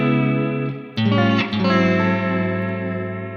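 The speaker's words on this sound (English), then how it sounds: "you can add some vibrato just to get a little swirl and a little vintage feel" Electric guitar chords run through a Strymon Ola modulation pedal with vibrato for a lo-fi neo soul tone, a few sustained strums ringing with gentle pitch wobble and swirl, no talking.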